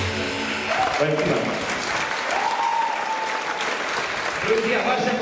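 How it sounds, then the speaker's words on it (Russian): Audience applause at a university ceremony honouring the best graduates, steady dense clapping throughout with a few brief tones and a voice faintly under it. "Друзья, ваши аплодисменты Дмитрию"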